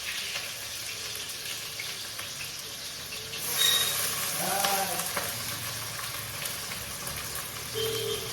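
Onions and potatoes fry in a pan with a low, steady sizzle that swells into a louder hiss partway through, with occasional small clinks.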